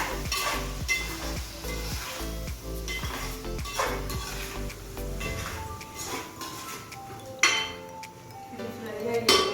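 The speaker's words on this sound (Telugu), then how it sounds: "టొమాటో ప్యూరీ కొంచెం ఫ్రై చేసుకుంటాం" Tomato puree fries in a pan for a raw jackfruit biryani, sizzling steadily while a metal spoon scrapes and clinks against the pan now and then, with one louder knock near the end.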